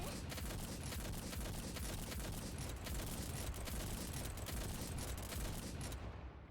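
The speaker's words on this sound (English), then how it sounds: "This one's gonna get blasted by rifle fire" Continuous heavy rifle fire roars in a video game battle, a dense unbroken barrage of shots blending into loud noise for several seconds before cutting off at the end.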